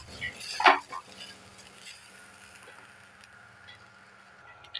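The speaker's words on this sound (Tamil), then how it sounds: "இதை வந்து இந்த மாதிரி நல்லா ஓட்டி விட்டுக்கலாங்க ஒரு ரெண்டு நிமிஷம் ஓட்டிக்கலாம்" Sweet kozhukattai filling being stirred and lightly dry-roasted in a pan, with a sharp clink of the spoon against the metal early on, then soft scraping and faint sizzling that continue quietly.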